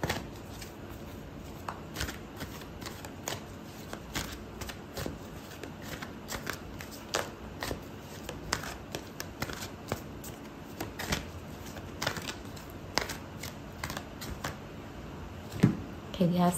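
Tarot cards being shuffled up close in a quiet room: repeated soft riffling and flicking bursts at an irregular rhythm, with faint background hiss throughout.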